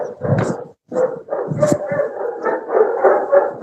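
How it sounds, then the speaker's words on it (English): A dog barks in several short, close bursts, then breaks into whimpering and yipping that stays loud and near throughout. "This dog is named Skippy."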